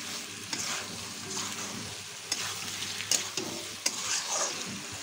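Potatoes and spices for a Bengali egg curry sauté in a pan under a spoon, with soft, uneven scraping strokes and a few sharper clacks over a gentle, close frying sizzle.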